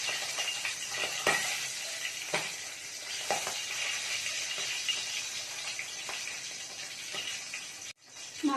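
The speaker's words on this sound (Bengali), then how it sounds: "মাছের মাথাগুলো ভেজে নেব।" Fish heads sizzle steadily in hot oil in a heated wok at home, with occasional stirring clatter and a brief pause near the end.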